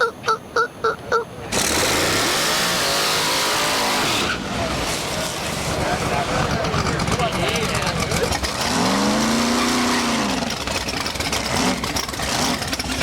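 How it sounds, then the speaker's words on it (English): Loud race car engines roar continuously with tire noise and braking sweeps, a harsh mechanical din close by, with no talking. "You can hear the brakes and the tires."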